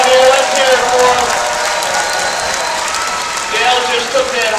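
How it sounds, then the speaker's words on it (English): A crowd applauds at an outdoor demolition derby, with dense, steady clapping and cheering that holds for the whole stretch and swells slightly at the start and end. "How about a round of applause for all three drivers out here?"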